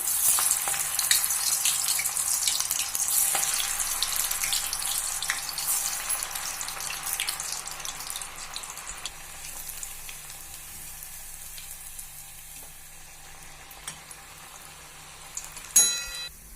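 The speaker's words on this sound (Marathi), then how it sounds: "तेल तापलंय गॅस मी बारीक केलेला आहे आणि आता आपण हे सगळे कोफते तळून घेऊया" Fenugreek and spinach koftas deep-frying in hot oil on a low gas flame, a steady loud sizzle and bubbling that slowly softens, with a brief clink near the end and no talking.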